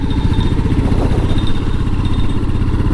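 A fuel-injected Royal Enfield Meteor 350 BS6 motorcycle pulls in fourth gear as the throttle opens, giving a loud, close, continuous low thumping engine and exhaust drone.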